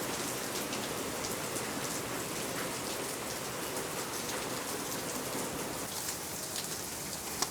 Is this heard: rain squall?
yes